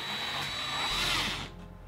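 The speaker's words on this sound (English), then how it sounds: "I'm going to drill my hole" A power drill whines steadily through a hole in a 2012 Kia Optima during a rear speaker install, loud and close, then stops abruptly near the end.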